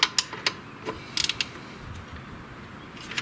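A ratchet wrench snugs brake bolts on a Yamaha Kodiak 400 ATV, giving short, close clicks in small bursts separated by quiet pauses, with no talking.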